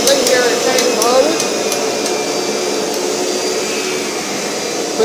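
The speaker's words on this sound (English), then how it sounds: "Let it vacuum." A 1997 Kirby G5 vacuum cleaner runs with a loud, steady motor whine and airy roar, a few sharp knocks early on, and a constant drone throughout.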